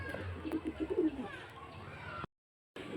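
Two female pigeons kept for sale coo softly in a short series of low, throaty calls close by, against background chatter, before a brief gap of silence.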